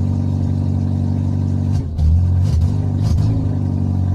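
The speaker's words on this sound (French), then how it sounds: "encore un gros bruit d'échappement, c'est normal" An engine running with no silencer fitted on its exhaust gives a loud, steady, rough drone close by, with brief dips and throttle blips near the end.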